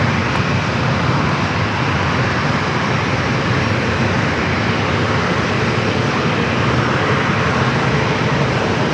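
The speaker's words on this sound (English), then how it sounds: "United A321 Neo up and next for takeoff." A United Airbus A321neo takes off from San Diego airport, its engines a loud, continuous roar filling the whole stretch without a break.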